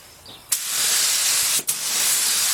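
Paint spray gun with a 1.4 nozzle at 24 psi spraying military 5-ton truck wheels, two close, loud hissing bursts, the first about a second long and the second ongoing, with sharp starts.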